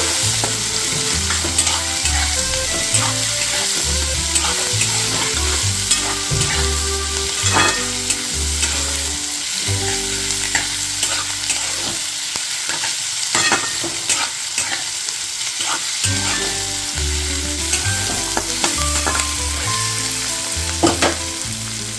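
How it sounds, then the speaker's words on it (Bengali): A large chopped onion fries in a pan for a Bengali cabbage mash, continuous close sizzling with frequent spatula scrapes and taps, a brief quieter lull midway before the stirring resumes. "একটা বড় সাইজের পেঁয়াজ আমি কুচিয়ে রেখেছিলাম এটা দিয়ে দিলাম পেঁয়াজটা দেওয়ার পর ভালোভাবে ফ্রাই করে নেবো এটা"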